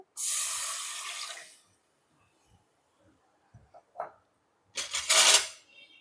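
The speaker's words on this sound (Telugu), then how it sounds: "స్టవ్ వెలిగించుకొని, గిన్నె పెట్టుకొని, మనం ఎంత అయితే బెల్లం తీసుకుంటున్నామో అదే కొలతతోటి వాటర్ వేసుకోవాలి" Water pours into a pot to make jaggery syrup in two bright, splashing bursts, one lasting over a second and a later shorter one. Soft clinks and taps sound in the quiet gap between them.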